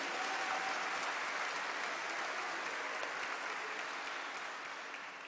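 Steady, dense applause from a crowd fills the whole stretch, holding level and easing off only slightly at the end.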